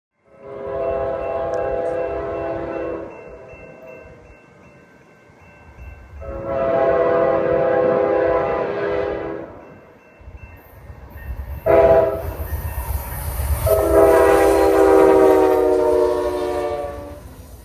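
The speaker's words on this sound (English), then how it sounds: "Amtrak number 5 blasts by on Main Track 2" Amtrak passenger train No. 5 blasts past at speed on a main line in Springville, Utah, sounding several long, loud horn blasts over the roar and rumble of the passing train.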